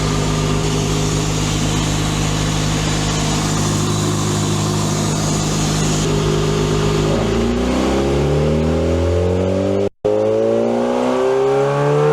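A Kawasaki Ninja ZX-4RR motorcycle with a full titanium exhaust drones steadily on a dyno, then revs up hard through rising pitch, cuts out briefly, and climbs again, close and continuous.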